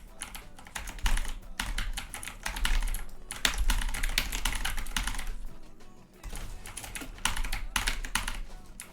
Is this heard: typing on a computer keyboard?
yes